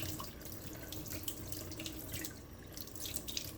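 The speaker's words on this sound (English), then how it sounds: "Now we're gonna wash the chicken. We're gonna wash all the nooks and the crannies," Kitchen tap running into a sink while raw chicken is washed under it, a steady faint splashing flow with small irregular spatters throughout, no voices.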